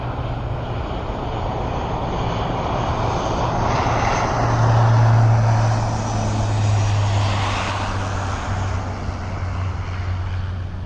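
Aircraft engine roaring at RAF Mildenhall, a steady, loud broadband drone with low rumble that swells slightly in the middle, continuous throughout with no talking.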